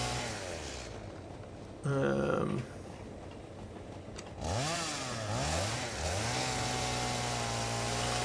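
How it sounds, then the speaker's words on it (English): Chainsaw in the video game Satisfactory clearing an area, a steady buzzing engine whine that revs and wavers in pitch, loud and continuous with brief surges throughout. "I love this area clearing from the chainsaw."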